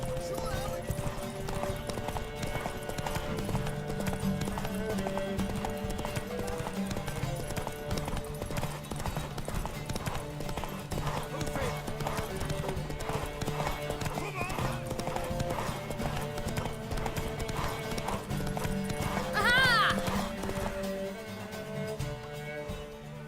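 Steady clip-clop of horse hooves runs throughout over layered game music in The Witcher 3, with a brief horse whinny near the end and some speech underneath.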